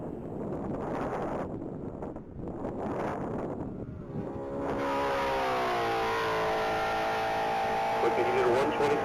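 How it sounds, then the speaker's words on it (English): A 2022 Ford Mustang Mach 1, car number 469, races at a top-speed mile event. Wind buffets the microphone at first, then a steady engine note climbs in pitch as the car accelerates, with a commentator talking over it throughout. "back on track to vehicle number 469 in that 2022 Ford Mustang Mach 1"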